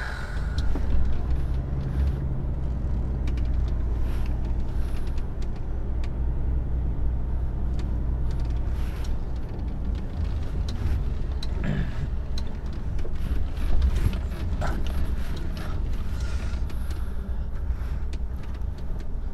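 A truck parking up at an overnight stop beside other trailers, a steady loud diesel rumble running throughout with a few brief hissy bursts like air brakes, no talk.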